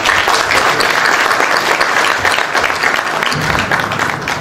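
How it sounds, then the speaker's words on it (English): Audience applause at an academic celebration event, loud sustained clapping from a full room, even and continuous throughout with no voices over it. "A round of applause for Inni Gorji."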